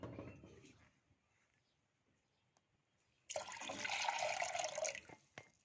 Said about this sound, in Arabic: هضيف بقى ايه كوباية لبن